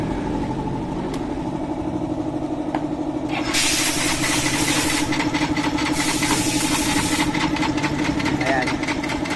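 Yamaha Mio i 125 scooter with an electric starter fault, its engine idling with a steady mid-pitched putter, then revving louder and rougher with rapid ticking pulses, close by.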